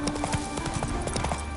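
Roach, Geralt's horse in the video game The Witcher 3, gallops with rapid, rhythmic hoofbeat clip-clops, close and loud over a continuous game background.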